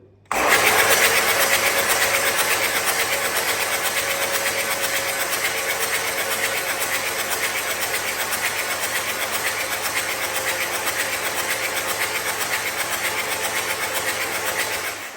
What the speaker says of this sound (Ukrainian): ключик провернув і поїхали